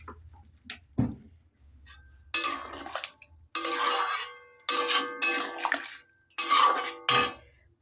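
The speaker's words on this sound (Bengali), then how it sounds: "এবার জল ঢালবো।" Water poured into a cooking pan of spiced curry, arriving as several loud splashing bursts separated by short pauses, with clanks of a pot and utensils against the pan in between, close and without talk.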